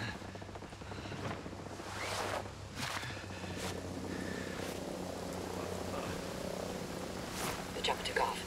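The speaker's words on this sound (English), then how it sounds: "The chopper took off." A helicopter lifting off in Tom Clancy's Ghost Recon: a faint, steady low rotor drone with soft thumps and scattered rustling, fairly distant and quiet.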